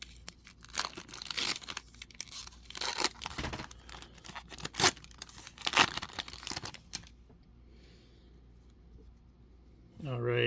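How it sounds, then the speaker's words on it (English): Foil trading card packs from a Bowman Chrome University Football jumbo box being ripped open, a run of sharp tearing and crinkling bursts, close and fairly loud, followed by a quiet pause and then more rustling. "let's just get to ripping here and see what we can find in this box"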